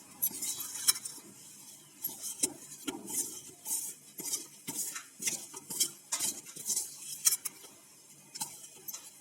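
A spoon stirs melted chocolate and peanuts in a bowl, making quick, irregular clinks and scrapes against the sides in a close, busy rhythm with no voices.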